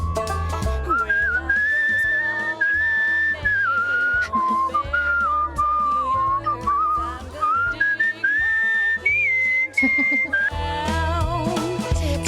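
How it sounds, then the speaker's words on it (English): A person whistles a continuous, wavering melody up close, loud and clear for the whole stretch, over a steady musical backing with no talking. "Yeah, I'm whistling right now."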